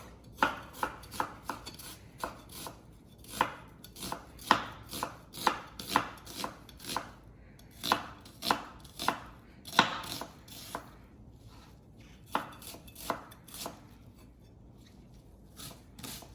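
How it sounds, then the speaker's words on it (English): Knife chopping an onion into small pieces on a board, a steady run of close, crisp chops in short bursts with brief pauses between, no talking. "Now I'm going to chop up the onion."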